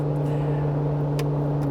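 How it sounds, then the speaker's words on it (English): A van's engine cooling fan runs at its highest power level, giving a steady, loud, droning hum that holds unchanged from start to finish. "switches on the highest power level of the fan"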